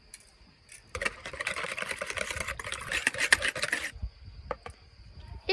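Tcheboureki dough ingredients with salt being mixed in a bowl, a steady scraping, whisking rasp for a few seconds that stops abruptly, followed by a few light knocks and clicks.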